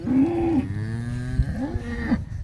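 A black cow with white patches that has recently calved moos loudly and close by, a long drawn-out low call followed by a second rising moo.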